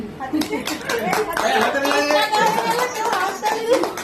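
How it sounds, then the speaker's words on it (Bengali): Several people clap their hands at a birthday celebration, a dense run of quick, close claps mixed with voices and chatter. "হাততালি হাততালি"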